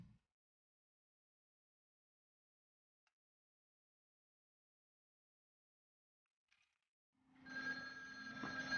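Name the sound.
telephone ringing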